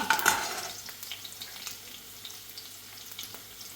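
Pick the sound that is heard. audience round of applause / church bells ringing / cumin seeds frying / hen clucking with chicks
cumin seeds frying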